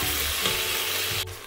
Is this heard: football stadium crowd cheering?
no